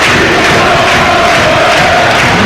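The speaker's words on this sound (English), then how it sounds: "And it's the Plymouth fans that you can hear." Plymouth Argyle fans roar in a football stadium during a match away at Leicester City, a dense, steady wall of crowd noise with no break for the whole stretch.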